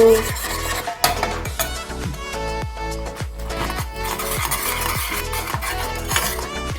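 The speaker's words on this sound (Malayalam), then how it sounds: "അമൃതം പൊടി ഇളക്കിക്കൊണ്ടിരിക്കണം, അല്ലെങ്കിൽ എൻ്റെ അടി പിടിക്കാൻ നല്ല ചാൻസ് ഉണ്ട്." A spoon stirs Amrutham powder porridge as it thickens in a pot, giving repeated rhythmic scraping strokes against the bottom, close and steady, with a busy background bed.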